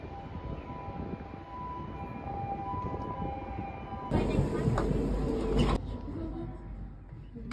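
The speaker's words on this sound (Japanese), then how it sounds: "電車 来た。" A train rumbles in at a station in Kawagoe, Japan, with a low, steady roar, a high-pitched squeal rising partway through, while people talk nearby.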